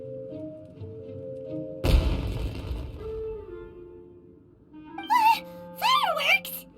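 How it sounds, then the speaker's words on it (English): Fireworks go off in the video game Genshin Impact: one sudden loud burst that fades out, then two or three rising, whistling streaks later on, all over quiet background music. "It sounded like fireworks."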